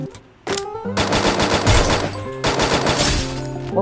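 Rapid automatic gunfire from the Free Fire video game cracks out in two long, loud bursts after a short single shot, the shots running together into a dense rattling stream.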